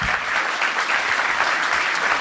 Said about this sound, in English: I just want you to clap your hands for yourself for being here